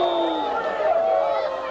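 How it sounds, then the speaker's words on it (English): Fans of Middleborough boo in a crowd at a 1993 PeeWee youth football game against Barnstable, a steady drawn-out chorus of low jeering voices that carries on without a break throughout. "All the fans here from Middleborough booing him."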